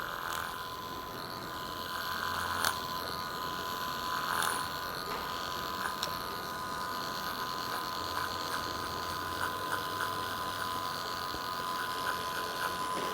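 Electric hair clippers fitted with a number 2 guard buzz steadily through a men's fade haircut in a salon, a faint continuous hum with small clicks and no talking.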